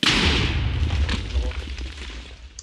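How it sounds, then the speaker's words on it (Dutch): A heavy boom opens, then a rumbling roll of blasts and crackling bursts fades out, a cannon firing in a Minecraft-style pirate game. "waarom vuur je dan op het andere kanon?"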